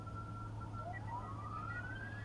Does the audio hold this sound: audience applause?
no